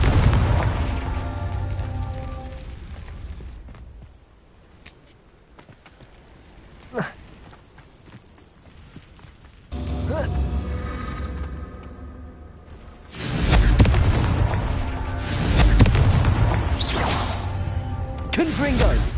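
Confringo blasting-spell explosions in the video game Hogwarts Legacy, deep booming blasts with whooshes, a burst at the start and loud repeated impacts near the end, a quieter stretch between, with a voice speaking over it.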